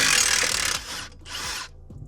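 An impact wrench rattles loudly up close while loosening a coilover nut on a GR86/BRZ suspension, one long burst followed by a shorter second burst, with no talk.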